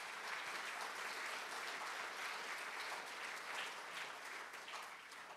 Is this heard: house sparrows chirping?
no